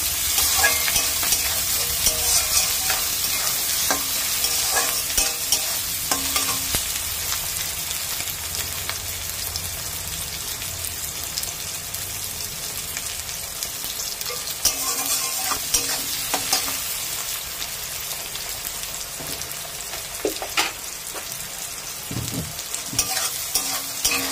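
Masala with chopped tomatoes and chillies sautéing in a pan, a continuous loud close sizzle with frequent scraping and clinking stirs throughout, no voices.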